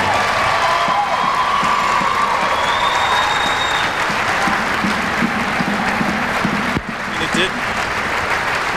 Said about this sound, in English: getting a well-deserved round of applause from this partisan IPFW crowd